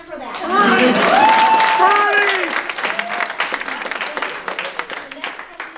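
Debate audience at a congressional district debate bursting into applause, loud and sustained, with a voice speaking over the start before the clapping thins into scattered, fading claps.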